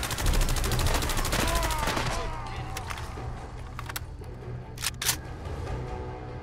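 Val rifle gunfire in Fallout 4, a rapid loud burst of automatic shots at close range that tails off into scattered single cracks and faint distant shots.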